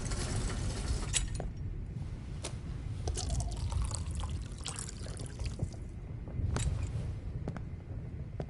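Water poured into a glass in Life is Strange, a soft, quiet trickle with scattered drips and small clinks, heard alone against a low background hum.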